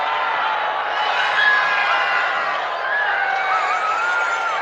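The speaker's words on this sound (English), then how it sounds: "Rohit survives, and a roar in the crowd." A cricket stadium crowd roaring after a dropped catch, a dense, loud, sustained roar of many voices with whistles and shouts rising out of it, steady across the whole span.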